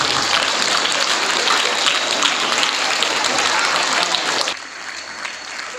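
Loud, thick applause from a large audience at an award ceremony for honorees from Faizpur holds steady for several seconds, then cuts off abruptly into quieter room tone.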